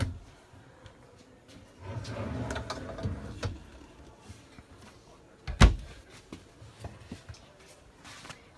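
Deep drawers inside a 2018 Georgetown 369DS Class A motorhome slide open and shut, with soft rumbling runs and one sharp, loud knock as a drawer closes, while a voice talks quietly at times.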